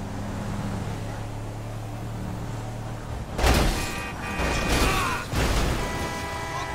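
Car driving in Grand Theft Auto 5, a low steady engine drone that suddenly gives way to loud bursts of impact and scraping noise in the second half, close and fairly loud.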